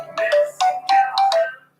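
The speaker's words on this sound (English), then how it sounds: "Oh, there's a call." A flip phone rings with a bright, melodic electronic ringtone, several short tonal bursts in a quick rising pattern, loud and close, alone without talk.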